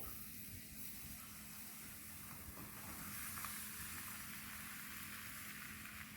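Thin pancake batter sizzling in a hot oiled pan as it is swirled around, a steady, fairly faint hiss with no talking.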